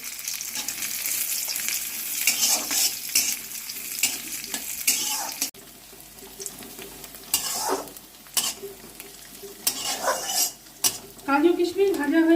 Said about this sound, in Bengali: তেল গরম করে আমি এর মধ্যে কিশমিশ আর কাজু হালকা করে ভেজে নেব।